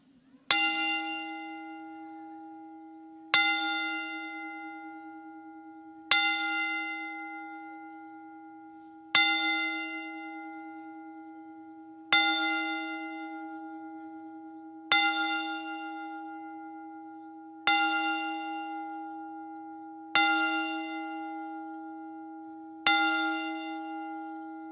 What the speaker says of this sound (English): we give a 10-bell salute to our fallen hero